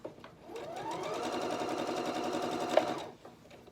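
A sewing machine runs steadily for about two and a half seconds, stitching 5/8 inch seams in quilting fabric, with a fast even whirring hum that starts and stops cleanly and is heard close and alone.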